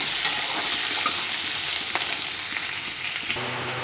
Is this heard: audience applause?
no